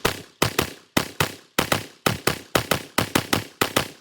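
A rifle fires 40 grain rounds in a fast string of about thirteen loud, sharp reports, each shot followed by a short ringing decay, with no talk over the shooting.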